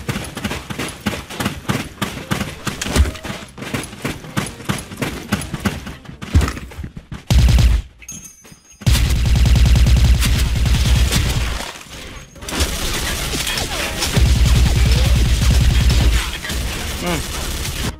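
A silenced M4A1 ACOG rifle in the shooter game Special Force 2 fires rapid bursts of muffled shots, followed by a dense, loud wash of continuous gunfire and in-game battle noise.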